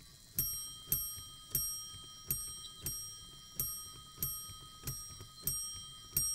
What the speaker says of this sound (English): The latch arm at the front of the unit will then release the hammer arm and strike the bell.